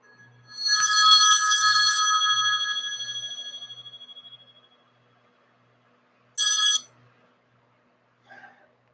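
A mobile phone rings with an incoming call: a loud, bright electronic ringtone burst lasting about four seconds and fading, then a shorter repeat and a faint final chirp, with no voices.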